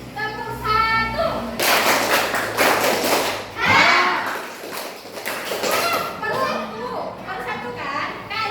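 A classroom group claps along in a clapping game, with bursts of many hands striking together in quick rhythmic volleys between stretches of children's and an adult's voices.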